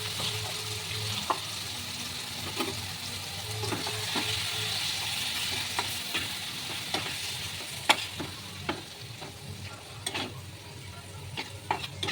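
Marinated chicken pieces fry in a little oil in a frying pan with a steady sizzle, while a utensil stirs and scrapes against the pan in scattered clicks; no talking.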